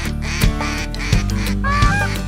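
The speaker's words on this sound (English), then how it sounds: "Here come the ducks" Ducks quack in a loud, repeated series close by during a waterfowl hunt, several raspy calls spaced about half a second apart, with a steady duck-call-like drone beneath.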